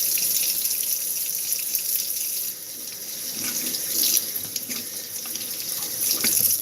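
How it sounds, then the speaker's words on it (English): Tap water runs steadily into a kitchen sink as a cucumber is rinsed for an avocado salad, a loud continuous close splash that shifts slightly as the vegetable moves under the stream. No one speaks. "I'm going to go ahead and wash my cucumber for the avocado salad. Just rinse it off, give it a good rinse."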